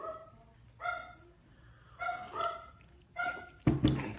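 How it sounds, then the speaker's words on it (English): A dog barks wildly in a series of sharp, spaced barks at moderate distance, ending in a louder, harsher outburst. "And there is my dog going ballistic."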